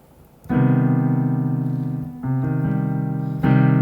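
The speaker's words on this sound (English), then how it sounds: "Minor triad, major 7th above." A sustained minor triad with a major seventh chord enters after a short pause, shifts its voicing midway, then swells again near the end, played alone without any talking.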